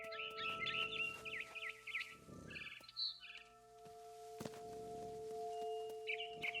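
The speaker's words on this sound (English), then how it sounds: "It was a barn swallow going back to her nest." A barn swallow chirps in the video game What Remains of Edith Finch: bursts of quick, high twittering at the start and end, separated by soft rustling and thuds over a steady musical tone.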